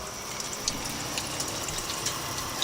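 Water leaks from an outdoor shower hookup, a faint steady hiss and trickle with small irregular ticks and drips, heard close and alone.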